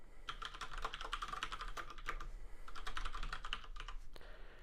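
Quick bursts of clicky keystrokes as code is typed on a computer keyboard, close and fairly quiet, with brief pauses between runs and no talking.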